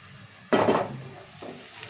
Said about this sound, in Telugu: మంచిగా మీడియం ఫ్లేమ్లో మంచిగా ఎర్రగా ఫ్రై చేసుకోవాలి